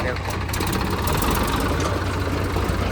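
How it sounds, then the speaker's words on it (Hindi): An old-model loading machine idles at a stone crusher, its engine running as a loud, steady, continuous rumble with no change in pace. "मशीन भी आ चुकी है अब लोड करने के लिए।"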